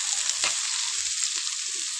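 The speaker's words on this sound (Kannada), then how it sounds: "ಪಡವಲಕಾಯಿ ಹಾಕ್ಕೊಂಡ್ಮೇಲೆ ಒಂದು ಸ್ವಲ್ಪ ಈ ಥರ ಮಿಕ್ಸ್ ಮಾಡ್ಕೊತೀನಿ" Ridge gourd pieces frying in a pan with a steady hiss of oil, a quick spatula scrape near the start and light stirring knocks after, close and moderately quiet, no voices.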